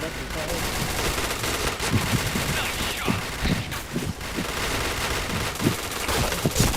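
Rapid bursts of automatic gunfire from the shooter game Point Blank, dense and loud, repeating in quick volleys while a player talks over the action.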